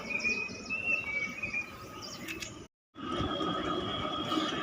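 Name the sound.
birds chirping in the morning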